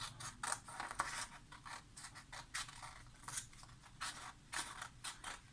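Scissors cutting paper along an edge to make a gift box, a quiet close sequence of crisp snipping and scraping strokes in an uneven rhythm.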